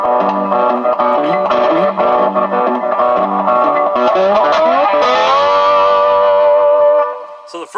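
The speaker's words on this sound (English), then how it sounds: "so you can hear a trem going through there for some reason." An electric guitar played through a Line 6 amp with a tremolo effect pulses its sustained chords and notes at a steady rate, loud and close, then fades away near the end.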